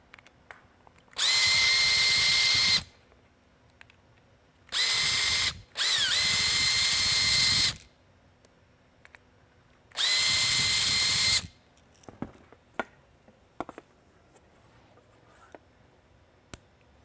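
Power drill backing out two Phillips head screws from a Whelen Perimeter Enhancement Light, several loud close whirring bursts of one to two seconds each with quiet gaps and small handling clicks between.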